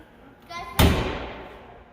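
A door shuts with a single solid thud at close range, ringing briefly into the room, after a faint squeak.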